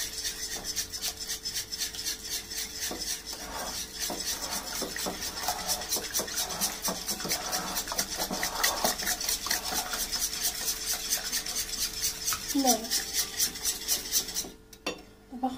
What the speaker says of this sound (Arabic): نخلطهم مزيان.